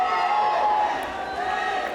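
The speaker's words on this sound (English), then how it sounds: "The cheering for Smith." At a high school league swimming championship in Milford, a crowd roars and cheers continuously for a swimmer during a race, loud and sustained with shouts mixed in.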